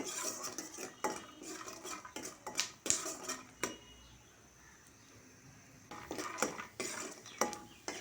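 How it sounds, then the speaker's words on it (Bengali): Peanuts are fried in a little oil in a pan: a spatula clinks and scrapes against the metal in quick, close bursts, with a brief quiet stretch in the middle. "বাদামগুলো ভেজে নিয়ে এরপর আমি সাকু দিয়ে দেব"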